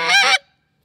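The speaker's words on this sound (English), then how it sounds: "Since this is a short reed call, it's kind of high pitched" Short reed goose call blown once, a single loud high-pitched honk lasting about a third of a second, close and alone, cutting off abruptly into silence.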